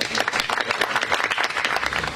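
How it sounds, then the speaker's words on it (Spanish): An audience applauds a speaker at a medical seminar opening, with dense, steady clapping from many hands filling the room throughout, loud and continuous with no voices over it. "quiero que le demos un aplauso"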